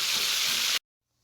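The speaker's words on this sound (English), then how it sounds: "it's really loud, it's sizzling." Food sizzles loudly in hot oil in a frying pan, a bright, steady hiss that stops abruptly.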